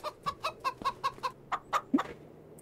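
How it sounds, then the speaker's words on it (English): Small chickens in the Farming Simulator 25 video game cluck in a steady run of about a dozen short, close calls, with no other sound around them. "they look like chickens"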